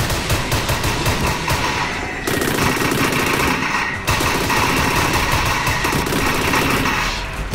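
A turret in Orion: Dino Horde fires at dinosaurs in sustained, loud machine-gun bursts, with rapid rhythmic shots in three long runs separated by brief gaps.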